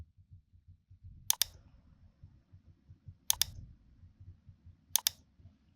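Three sharp computer clicks come at roughly two-second intervals, each a quick double tap, while Revit design software is in use. A soft low rumble sits quietly underneath, and no one speaks.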